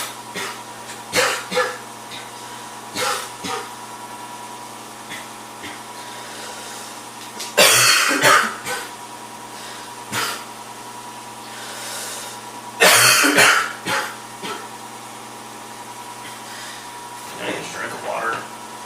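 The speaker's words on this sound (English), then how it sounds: "coughing my ass off for the last 2 hours" Several harsh coughs in separate bursts spread across the stretch, with quieter throat noises and a low background hum between them.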